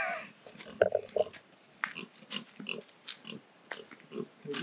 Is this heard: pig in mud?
yes